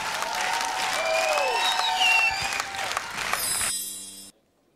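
Audience applauding, dense sustained clapping filling a hall, with musical tones ringing beneath, then the sound cuts off abruptly into silence.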